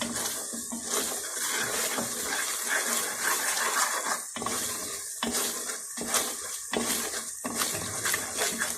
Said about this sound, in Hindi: अब हल्का सा पानी डालूंगी।